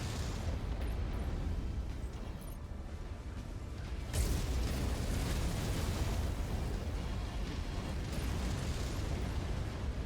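An enemy Jenner mech blows apart in a mech combat game, a dense roaring wall of explosion rumble with a sudden sharper burst partway through that keeps churning loudly to the end.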